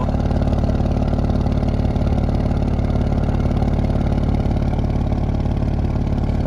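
A 2020 Audi S6 idles with its exhaust valves open, a steady deep burble with a rough low pulse, close and even throughout with no voices.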